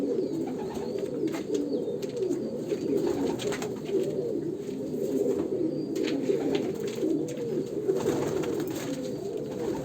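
Andhra pigeons coo continuously while several are placed into a cage, a dense chorus of low burbling calls close at hand alongside faint rustling and handling noise.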